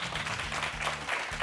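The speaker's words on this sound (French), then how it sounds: "est-ce que vous pouvez déjà applaudir ces premières intentions sur ce plateau d'expression jeune?" An audience of young people at a youth debate applauds, giving dense, steady clapping at moderate volume for a brief moment.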